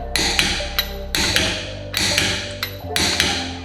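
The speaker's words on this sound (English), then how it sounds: "I'm going to set my torque wrench down to 76 foot-pounds, which is what Lexus recommends for the lug nuts." A torque wrench tightens lug nuts on a Lexus GS F wheel spacer, producing four loud, close bursts of ratcheting clicks separated by short pauses, with small metallic taps between them.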